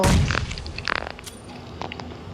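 Several booming video game explosions in quick succession, loud and punchy, each with a crackling burst before fading into a low rumble.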